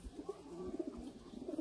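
A Sialkoti pigeon coos in soft, low, throaty bursts, several repeated murmurs close by and fairly quiet, with no one speaking.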